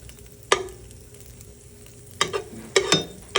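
A grilled cheese sandwich sizzles in butter in a pan under a steady low frying hiss, broken by a few sharp scraping and clattering bursts as the pan is lifted and turned, with no talking.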